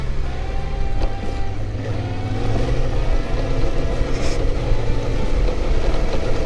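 A Yamaha Tenere 700 adventure motorcycle on a ride, a steady loud engine drone with wind rumble, the throttle held fairly even and slightly rising, no talking.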